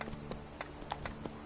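Hooves of the horse Roach trot in The Witcher 3 video game, a run of light, evenly spaced clops at a brisk rhythm, fairly soft and close.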